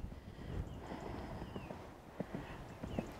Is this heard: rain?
no